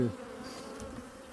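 Honey bees hum steadily around beehives at the end of August, a continuous close buzzing drone that holds throughout with no voices.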